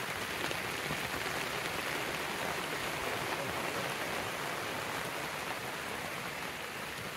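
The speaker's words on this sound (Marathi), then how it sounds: "आता अचानक लगेच जास्त पाऊस आला" Dense, steady heavy rain pours down continuously on an open village pasture where cows graze, a loud broadband hiss with no pauses and no voices.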